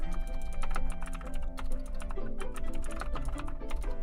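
Computer keyboard typing, a dense rapid clatter of keystrokes close to the mic, playing over steady tonal music in the background.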